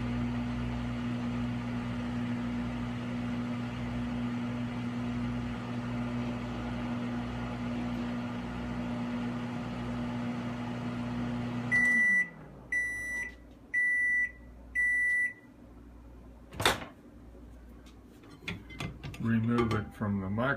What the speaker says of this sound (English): Remove it from the microwave.